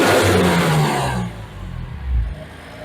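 A 2021 BMW M2 Competition fitted with a JB4 tuner gives a loud, close engine rev that fades away, followed by a second shorter blip, heard alone with no talk.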